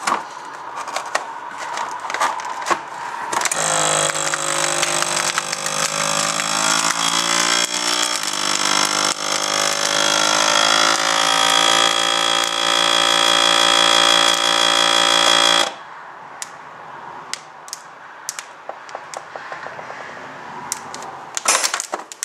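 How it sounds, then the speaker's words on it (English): A vacuum sealer motor drones steadily for about twelve seconds, rising in pitch, then cuts off, followed by scattered crackling and popping snaps of dry noodles cracking under the vacuum seal. "that's just the noodles cracking under the pressure of the vacuum seal"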